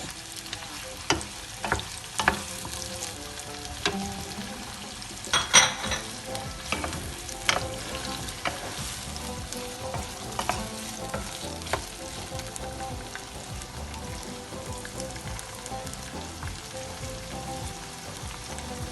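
Artichokes and potatoes go into a sizzling pan of olive oil, raising a dense, steady frying hiss with scattered crackles and stirring scrapes that keeps going throughout, close and without talking.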